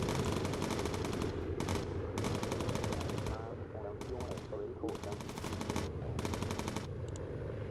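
Bomber gunner's machine gun in the video game Bomber Crew, firing repeated rapid bursts of loud, close gunfire separated by short pauses, over a steady background engine drone.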